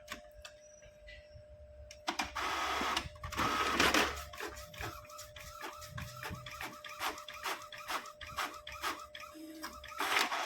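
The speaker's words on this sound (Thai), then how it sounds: "เดี๋ยวผมจะปิ้นแบบใบให้ดูนะครับ" An Epson L605 inkjet printer prints a page with a steady, rhythmic run of clicking and whirring mechanism strokes. The printer is close and fairly loud, with one louder burst of motion early on.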